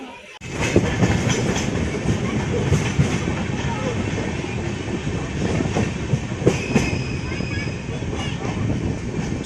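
The 14033 Jammu Mail passenger train runs on rails out of Delhi, a steady loud rumble of wheels with rhythmic clickety-clack and occasional squeals, heard continuously from on board.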